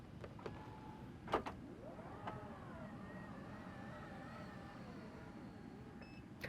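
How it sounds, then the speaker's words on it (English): The powered tailgate of a 2024 MG4 EV opens with a faint electric whir and a soft motor sweep. It starts with a click and latch release, then a few quiet beeps near the end, with no talking. "Now, when you open up the tailgate,"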